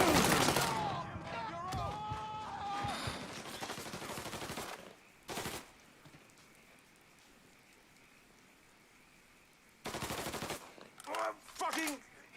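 Bursts of rapid gunfire in the Mafia 3 video game, loud crackling volleys at the start and again near the end with a quieter stretch between, while voices shout excitedly over the shooting.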